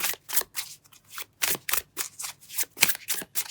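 A deck of cards is shuffled close up in a quick series of crisp riffling bursts separated by short pauses.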